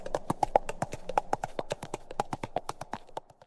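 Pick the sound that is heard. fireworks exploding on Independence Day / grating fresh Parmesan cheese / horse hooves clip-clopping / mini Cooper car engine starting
horse hooves clip-clopping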